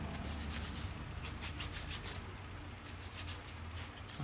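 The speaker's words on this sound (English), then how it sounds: "I'm going to go ahead and wipe some of the excess off here." A cloth wipes excess Styx oil off a weapon, giving close, soft, repeated rubbing strokes in short bursts over a faint background.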